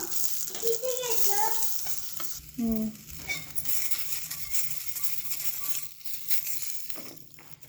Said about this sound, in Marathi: बटरमध्ये टॉस करून घेऊ आपण शिमला मिरची आणि कांदा